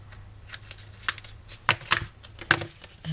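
Paper cut by hand while making a Stampin' Up lidded milk carton gift box, trimming a top flap. Several short, sharp snips and rustles sound close by, with no voice.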